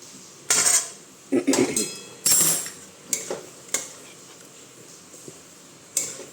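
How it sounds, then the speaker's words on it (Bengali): Spoon scraping and clinking against a metal pan as syrup is stirred into a cooled barfi dough, a few sharp separate knocks and scrapes with quiet gaps between them. "এবারে রসটা দিয়ে দেব এবার এটাকে নাড়তে থাকতে হবে"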